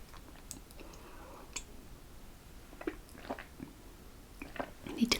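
A walnut biscuit being bitten and chewed up close, with scattered crisp crunches and soft mouth clicks that come in irregular bursts against a quiet background and grow denser toward the end.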